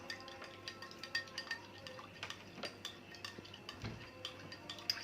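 A spoon stirring a honey and lime drink with kencur in a glass, a quick steady run of light clinks and taps against the side, close and quiet with no talking.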